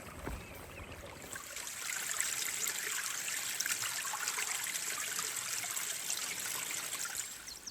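Steady trickling and babbling of a small mountain stream, a continuous bright hiss of running water at close range with no voices, from a hillside in a British special forces training area.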